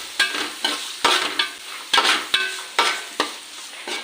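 Crushed onion and green chilli fry in a pan, with a continuous sizzle and a steady rhythm of roughly ten sharp stirring scrapes, close and fairly loud with no talking.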